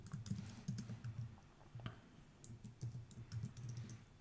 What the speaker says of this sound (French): Il faut vraiment que je m'habitue à ce nouveau clavier